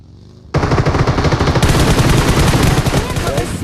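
Sustained automatic gunfire in PUBG Mobile, loud rapid bursts running almost continuously for several seconds, with a sharper, brighter layer of shots joining midway.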